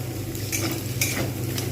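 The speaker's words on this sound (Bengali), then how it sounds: "ডিমগুলো একটু ভালোভাবে ভাজা হচ্ছে" Eggs frying in a pan while restaurant-style chow mein is cooked at home: a soft, steady sizzle over a low kitchen hum, with a few brief brighter crackles and light utensil scrapes.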